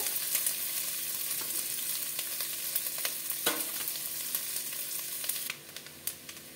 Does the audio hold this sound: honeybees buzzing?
no